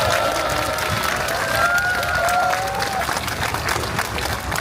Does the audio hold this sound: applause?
yes